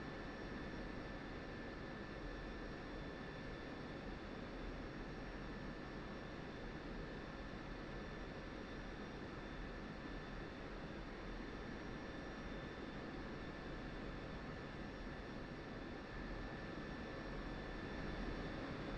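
A military aircraft taxiing toward the runway at night in the flight simulator DCS World, with its engine giving a steady, unbroken drone and a faint high whine throughout, no voices.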